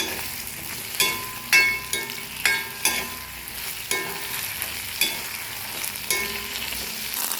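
Okra frying in a little oil in an iron pan, a steady close sizzle broken by about seven sharp stirring scrapes and clinks, roughly one each second.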